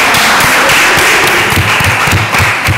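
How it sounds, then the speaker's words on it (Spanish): Loud, dense applause from an audience at a Spanish award ceremony for an equality-themed contest prize, steady clapping filling the room without a break. "felicitamos y les damos un aplauso"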